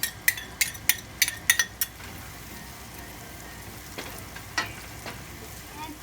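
Chili and ginger sizzle in hot oil while a utensil clinks sharply against the pan several times in quick succession, followed by softer frying hiss and a few scattered scrapes, close and without talk.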